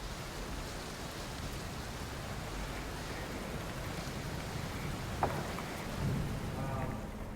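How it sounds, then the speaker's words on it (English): A small creek swollen by heavy overnight rain rushes past as a fast river, a steady broad wash of water noise, loud and continuous, with one brief knock partway through. "The rain fell hard overnight, and that little creek is now a rushing river."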